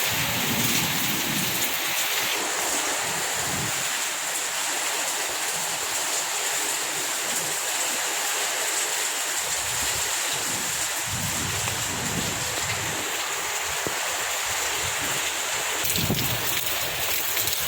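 Heavy rain pours steadily with a dense hiss, broken by low rumbling swells of thunder in the background.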